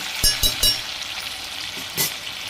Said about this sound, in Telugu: చూసారు కదా అలా ఫ్రై అవుతున్నాయి.